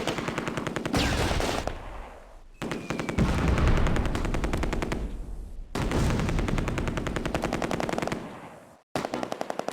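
Machine gun fire in the World War II strategy game Close Combat: A Bridge Too Far, loud sustained rapid bursts in three long runs separated by brief pauses, with no talking.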